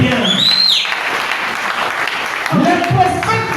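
A church congregation claps and cheers during an evangelical sermon, a dense wash of applause filling the clip with a brief shout rising over it at the start and louder claps returning near the end.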